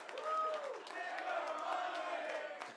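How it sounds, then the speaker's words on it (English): A stadium-style crowd at an Austin FC MLS announcement event lets out a sustained, ragged cheer of many voices chanting and whooping together, rising and falling at a moderate distance. "That's a cheer I haven't heard before."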